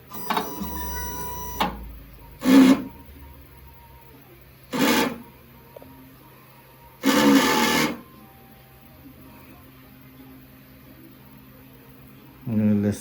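An XP600-head large format printer runs a cleaning cycle: four short, loud mechanical bursts arrive at uneven intervals over a steady low hum, with a brief whine at the start.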